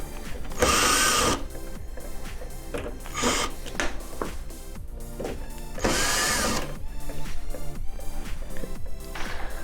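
A power drill whirs in short repeated bursts, loud and close, backing out screws from the lid of an Avalon/Primo water dispenser, with clicks and handling noises between the runs.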